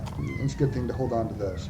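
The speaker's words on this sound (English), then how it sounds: "I apologize if you hear my cat freaking out." A distressed house cat meowing and wailing in the background while someone talks over it during a gaming session.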